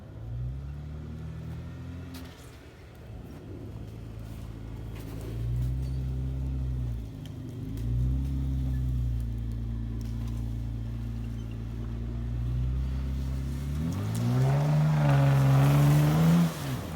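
A Jeep Wrangler's engine rumbles steadily as the vehicle pulls out of a rut, its low drone rising and surging into a loud rev near the end.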